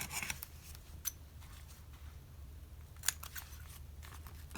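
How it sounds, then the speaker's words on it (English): Scissors snip through journal paper in a quiet room, with two short, crisp cuts standing out against faint rustling and low background hum. "I'm just gonna cut that here so that it folds over nicely"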